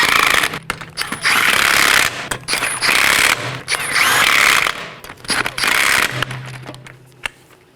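A ratchet or power tool snugs the 19mm lug nuts on a Chevrolet Equinox rear wheel, loud close bursts of whirring and clicking separated by short pauses, repeated several times across the wheel.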